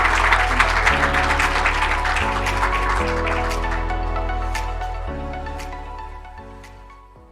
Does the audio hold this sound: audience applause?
yes